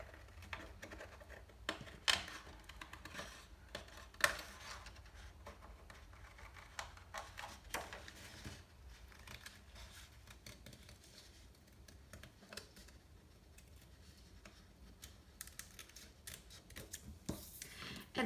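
Scissors snip steadily around the outline of a paper hot air balloon cutout, the quiet crisp cuts coming in irregular bursts and close up, with no talking.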